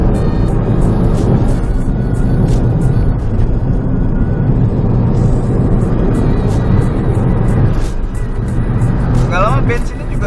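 A 2015 Toyota Yaris hatchback accelerating hard on the road, its engine droning loudly inside the cabin under continuous talking.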